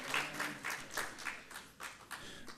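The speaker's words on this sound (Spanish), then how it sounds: "Ahora sí, un aplauso por favor también." Seminar audience applause on urban mobility, a faint, distant patter of claps rising and falling in soft waves across a few seconds.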